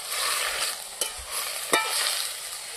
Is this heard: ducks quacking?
no